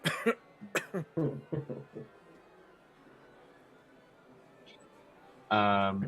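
A voice imitates a few short coughs, then falls quiet over a faint hush before a louder, drawn-out vocal burst at the end.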